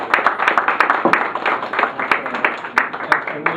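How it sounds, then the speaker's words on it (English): A small group at a farewell gathering gives a round of applause, with close, uneven hand claps in a lively patter that holds steady throughout. "giving a round of applause"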